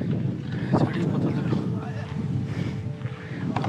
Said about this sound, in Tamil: இங்கே சில்லுன்னும் காற்று அடிக்குது